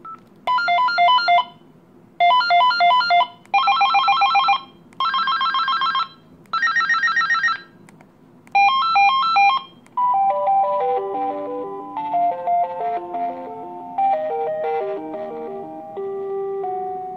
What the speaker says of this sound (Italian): queste qua sono le 10 melodie dell'Aladino